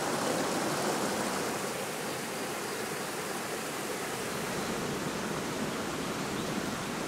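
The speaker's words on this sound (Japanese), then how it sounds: "園内を流れる谷川を楽しむことにしました。" A narrow mountain stream runs through a park valley in autumn, giving a steady, full rushing of water that fills the whole clip with an even, unbroken hiss and no voices.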